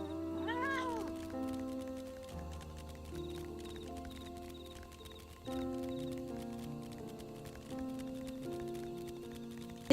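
A cat meows in a few short, rising calls near the start, set against a steady tonal music-like background, with no speech over it.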